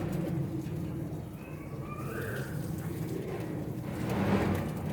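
Sialkoti pigeons coo softly and steadily over a low rustling background, a few rolling calls close by and continuing throughout without any speech.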